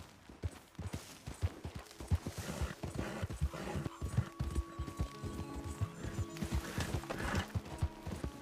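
Galloping horse in Red Dead Redemption 2, with rapid, loud hoofbeats and occasional snorts or whinnies over a busy game soundscape and music.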